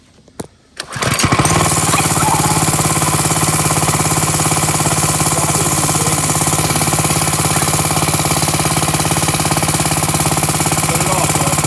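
A Coleman CK100 go-kart engine, just fitted with a new carburetor, starts after a few short bursts and then runs loud and steady close by for the rest of the clip.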